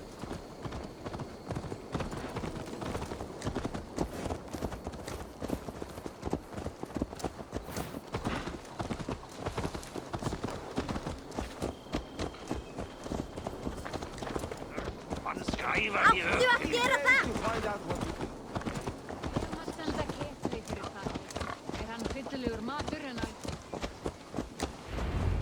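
Horse hooves clip-clopping in Assassin's Creed Valhalla, a steady rhythmic patter of hoofbeats throughout, moderately near, with brief voices and ambient game sound rising midway.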